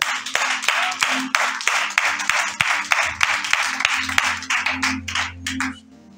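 A church congregation claps in a steady, brisk rhythm, loud and close, with a sustained hum running underneath before the clapping breaks into scattered final claps and stops.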